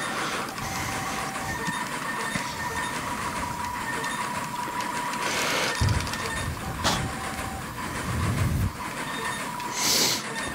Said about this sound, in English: So yeah, the train's held up.